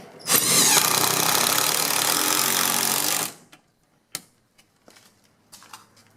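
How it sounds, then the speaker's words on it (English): A power drill drives screws into a fireplace bracket with a loud, continuous whirring burst of about three seconds. Scattered clicks and handling knocks follow at a lower level, and no voices are heard. "So 3 screws go in there."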